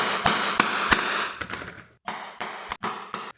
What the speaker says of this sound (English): we can punch out the different hole locations just by using a hammer